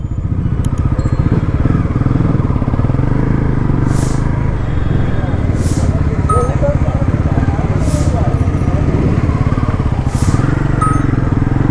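A Bajaj Pulsar NS400Z motorcycle engine idles steadily and close at a launch event in Bangalore, a low throbbing rumble throughout, with a few faint clicks above it.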